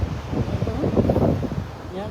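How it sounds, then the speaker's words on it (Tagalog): Steady wind rushing over the microphone at the sea with a low, surging wash of nearby ocean waves, continuous and fairly loud throughout. "Yan ang hangin, yung mga wave, ang ganda pakiramdam."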